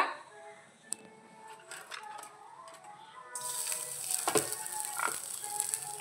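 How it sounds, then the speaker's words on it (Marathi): Half an onion fried in about a tablespoon of oil in a pan for a dry sandage vegetable dish, a soft sizzle and patter close by that swells noticeably louder and brighter midway, with a few light utensil clicks. "साधारण एक मोठा चमचा तेल घातलं यामध्ये आणि कांदा चांगला भाजून घेत आहे बघा इथे"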